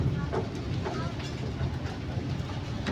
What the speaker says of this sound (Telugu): చక్రాలు ట్రాక్ లేని రైల్వే ప్రయాణం